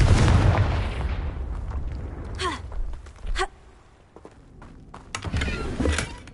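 A Confringo fire spell cast in Hogwarts Legacy, a heavy booming blast that decays into crackling, then several sharp whooshing spell bursts and a second rumbling impact.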